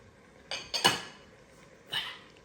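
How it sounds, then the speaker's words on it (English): Chopped potatoes and carrots going into a pot of chickpea stew, heard as a few brief close clunks and clatters against the pot, with quiet gaps between them. "So now I'm gonna put my potatoes and my carrots."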